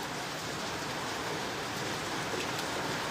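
Heavy rain pours down in a steady, dense hiss of countless drops drumming on a surface, constant and unbroken throughout.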